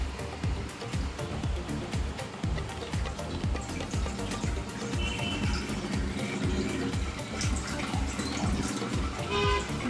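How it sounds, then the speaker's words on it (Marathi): Water poured into a pot on a gas stove for Maggi noodles, a soft continuous splashing and trickling with faint clatter, fairly quiet and close. "मग ह्याच्यात पाणी टाकायचं"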